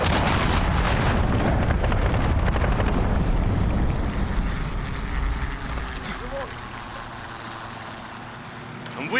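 Cruise missile strike in a war video game: a loud, dense roar of blasts and rumbling explosions fills the first half, then fades into a lower, distant rumble with faint whistling tones near the end.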